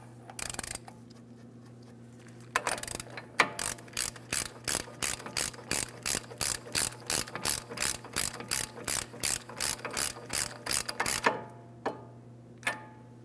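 A hand ratchet snugs the CV axle nut on a 2003-2008 Toyota Matrix, a close, fast run of regular clicking strokes lasting several seconds, with a pause before and after and no talking.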